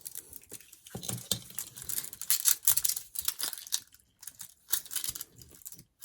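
Scissors carefully cutting around the window of a paper envelope, a close run of crisp snipping and rustling paper, in uneven bursts with short pauses.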